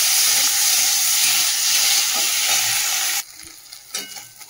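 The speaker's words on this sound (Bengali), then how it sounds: "একটু তেল দিয়ে দিলাম, দিয়ে চিংড়ি মাছটা ভেজে তুলে নেবো" Prawns fry in hot oil in a home kitchen pan, a loud, dense sizzle and hiss that holds steady for about three seconds, then cuts off abruptly, leaving faint clatter and quiet kitchen noise.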